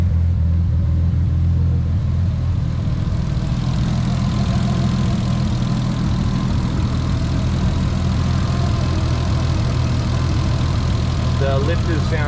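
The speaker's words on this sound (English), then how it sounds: "The lifters sound louder than normal." A Nissan R32 GTS-T idles close by with a steady low rumble and a busy ticking clatter from lifters that sound louder than normal. Someone talks briefly at the end.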